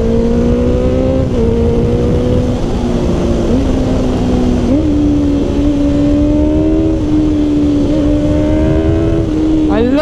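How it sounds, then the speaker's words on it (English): Honda CBR650R four-cylinder motorcycle engine held and revved around the upper midrange, a loud, close, continuous howl whose pitch steps up and down through repeated blips. "four-cylinder bikes that you rev them out and you can just get it going and listen to it"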